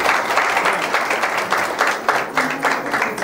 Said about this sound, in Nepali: ताली मारिदिउँ न।